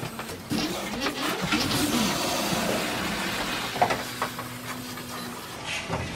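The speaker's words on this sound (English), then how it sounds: "Sounds like so much water." Water rushes through newly installed sink plumbing in a school bus conversion, a steady close hiss and splash with voices partly over it at the start.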